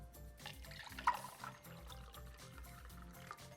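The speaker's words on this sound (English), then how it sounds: "I'm going to go ahead and dump this really cold water straight into my oils" Very cold ice water is poured into soap-making oils, making a faint, quiet trickling with a brief louder splash early on.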